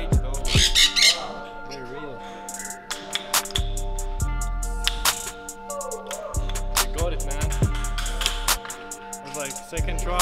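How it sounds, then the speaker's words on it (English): Caged parrots at Tallinn Botanic Garden squawk loudly and repeatedly, harsh piercing calls up close in an echoing indoor space, with people talking now and then between them. "There's real parrots in here."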